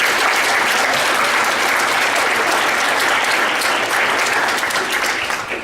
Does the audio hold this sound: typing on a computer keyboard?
no